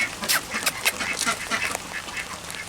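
Ducks on a farm during morning chores quack in a rapid, overlapping series of nasal calls, close by and fairly loud, with no talking over them.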